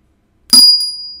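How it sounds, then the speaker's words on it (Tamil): A bicycle bell gives a single sharp metallic ring after a moment of silence, bright and close, then fades away. "இல்லை, சைக்கிள் பெல்."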